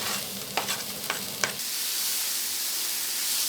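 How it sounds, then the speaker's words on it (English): Onion for pizza sauce drops into olive oil with a few sharp clicks, then a loud, even hiss of sauteing takes over and holds steady, close and without talk. "We're just going to saute off some onion and garlic"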